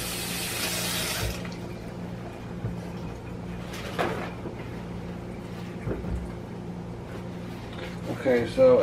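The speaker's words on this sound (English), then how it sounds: "I'm going to rinse off my hands." Tap water runs briefly into a sink as hands are rinsed during chicken prep, a loud hiss for the first second or so, then a quieter kitchen with small clatters and bumps.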